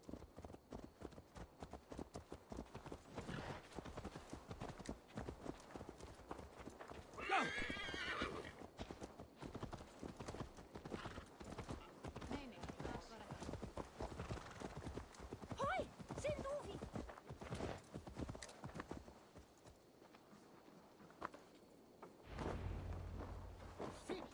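Hooves clip-clop steadily on hard ground throughout in Assassin's Creed Valhala on PS5, with a horse whinnying partway through, and a voice speaking along the way.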